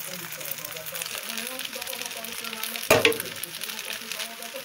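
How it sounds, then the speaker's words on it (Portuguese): Macaroni and corn sizzle and fry steadily in a pan for a few seconds, with a sharp clatter of something dropped in near the middle; a voice is faintly present under the frying. "Joguei o macarrão, agora vou jogar o milho."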